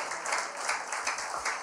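A church congregation clapping together during worship, a continuous dense patter of many hands with rhythmic swells, fairly close.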